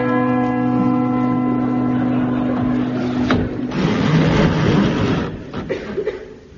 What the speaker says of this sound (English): Mr. King Arthur Seagoon climbed up and rang the bell.